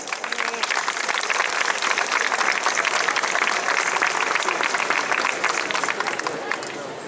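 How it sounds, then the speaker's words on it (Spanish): An audience at a lecture on the history of the Plaza Mayor of Tembleque, Spain, gives a loud, sustained round of applause that holds for about seven seconds before tapering slightly. "Un fuerte aplauso."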